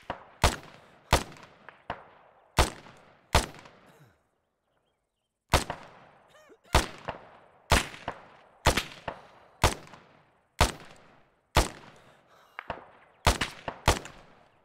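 Gunfire rings out in Arma 3 Antistasi as a series of sharp, loud single shots comes at a fairly regular pace, each trailing a short echo, with one brief quiet gap partway through.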